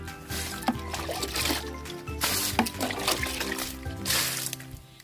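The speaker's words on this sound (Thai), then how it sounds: "ใช้ขันตักแบบนี้นะครับสาดไปที่โคนต้นพืชของเราก็ได้ครับ" Water scooped with a dipper and splashed onto the base of vegetable plants, a close, continuous gushing and trickling that surges in a few waves with small knocks of the scoop.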